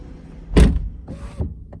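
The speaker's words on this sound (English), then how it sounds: "you can't operate the windows normally when the doors are open, but this change allows you with the door open" Power window on a Toyota GR Supra Mk5 running with the door open: a loud close thunk, then the motor's whirring glass travel and a soft stop, heard up close with no one speaking.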